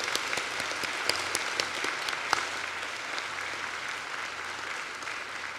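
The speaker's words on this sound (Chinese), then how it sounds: "现在，请大家用热情的掌声欢迎这3位远道而来的贵宾。" Sustained applause from a large audience welcoming three visiting guests at Taiwan's National Day celebration, a steady crackling wash of clapping with a few sharper claps standing out throughout.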